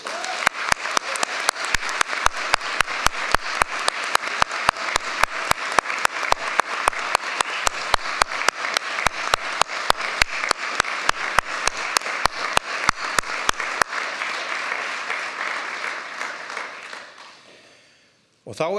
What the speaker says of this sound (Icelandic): Þá megum við klappa fyrir þeim.